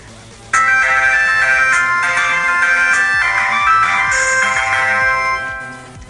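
A mobile phone rings with an incoming call, a loud, steady electronic ringtone melody that starts abruptly and plays continuously for several seconds before fading, with no speech.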